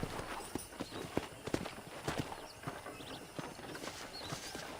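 Horse hooves clip-clop at a steady walking pace in the Red Dead Redemption video game, a series of sharp, distinct hoof strikes over a busy ambient background, with no talking.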